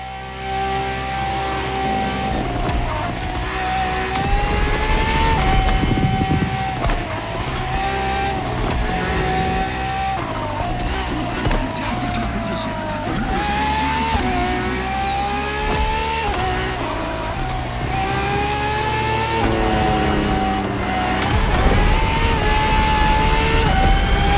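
Ferrari FXXK supercar in The Crew Motorfest, engine revving loudly and continuously with rising and falling pitch sweeps as it accelerates through gear changes, some tire squeal, a sustained close roar throughout.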